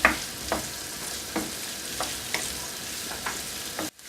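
Capsicum and celery stir-fry in hot oil with a steady, moderate sizzle, punctuated by regular spoon scrapes about every half second, cut off abruptly near the end.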